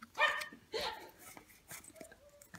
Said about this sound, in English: they had this yappy ass dog.